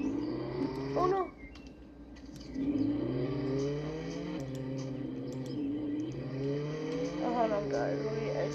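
Engine of a car driven in the Roblox game Jailbreak, droning in stepped tones that rise with each gear, dropping briefly before revving up again, with a voice talking over it at times.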